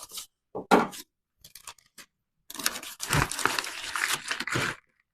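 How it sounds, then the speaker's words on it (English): Cardboard shipping package being cut open and unpacked, with bursts of crinkling, tearing and scraping of packing material, close and fairly loud, broken by short quiet pauses. "let's cut this thing open and see what we get in this package"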